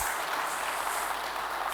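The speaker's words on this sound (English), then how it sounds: "You could clap it now." Applause from the audience at a business keynote address, a dense, even wash of clapping that holds steady throughout the short stretch.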